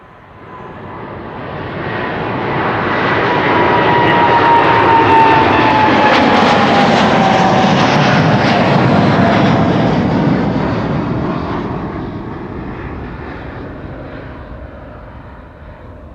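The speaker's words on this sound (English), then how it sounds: "It's a 787-10 Dreamliner." A Boeing 787-10 Dreamliner jet passing at Amsterdam Schiphol Airport, its engine roar swelling loud and broad over several seconds, then slowly fading away with a long trailing rumble.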